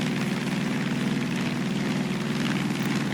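A propeller airplane engine drones in flight in a video game, a loud, constant buzzing hum that stays even and close for the whole stretch, with no voices.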